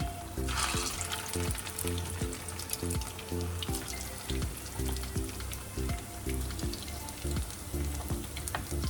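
Lazy zrazy with sauerkraut fry in a pan, a steady close sizzle that runs throughout with no talk, while background music plays underneath.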